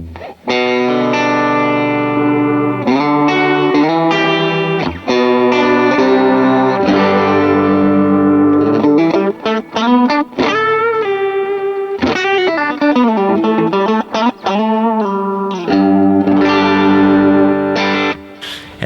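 An electric guitar runs through a Matchless amp patch on an HX Stomp, with modulation added for leads, playing loud, sustained distorted lead lines with warbling, chorus-like shimmer and short pauses between phrases, and no talking.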